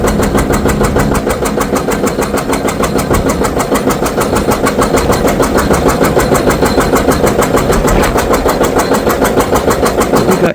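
Pony motor on a John Deere 830 industrial tractor running steadily, a loud close rhythmic chugging with fast regular pulses throughout, heard alone.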